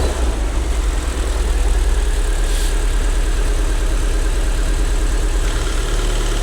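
A damaged, recently repaired Fiat Punto Abarth runs close by with a loud, steady low rumble and an uneven, pulsing idle that never settles, with no talk over it.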